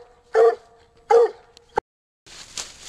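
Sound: coonhound barking at a treed raccoon during a coon hunt

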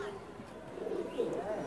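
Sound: pigeon cooing in a loft

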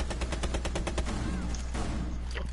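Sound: gunfire in a PS4 video game

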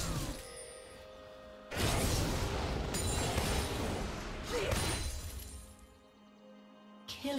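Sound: Rumble's Turbo Shock Rockets ability in video game League of Legends

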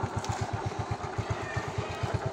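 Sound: Yamaha Mio i 125 motorcycle exhaust

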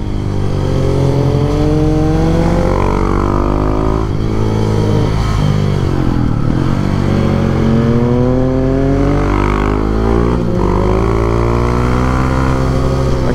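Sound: Husqvarna 701 supermoto motorcycle engine revving

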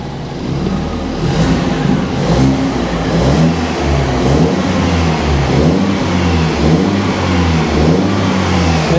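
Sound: car engine revving

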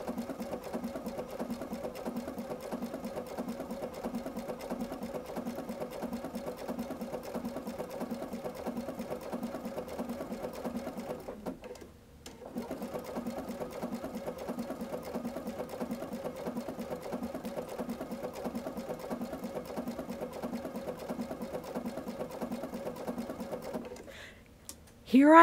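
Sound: sewing machine stitching blanket stitch applique

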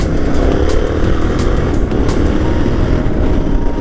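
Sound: Yamaha Tenere 700 adventure motorcycle engine

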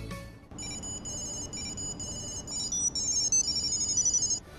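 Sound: Tile Bluetooth tracker ringing Jingle Bells ringtone

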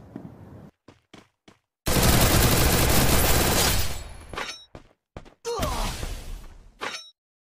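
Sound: gunfire in a video game

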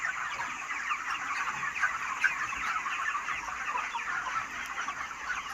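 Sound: chickens clucking

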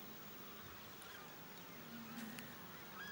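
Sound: southern screamer (tacha) honking, goose-like calls

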